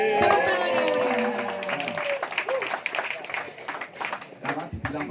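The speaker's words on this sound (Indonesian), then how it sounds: "Tepuk tangan ya" Audience applause breaks out at an Indonesian talk event, a burst of clapping mixed with crowd noise and voices that fades into scattered claps.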